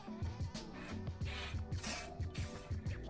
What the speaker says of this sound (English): Let me just use some WD-40.